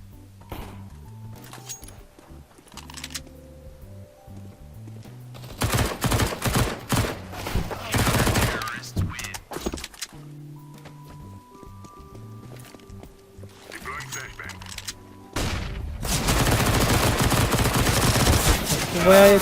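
Gunfire in the game CS:GO during a competitive match: bursts of sharp shots and rapid fire come in two dense clusters, with quieter stretches of game music and ambient tones between them.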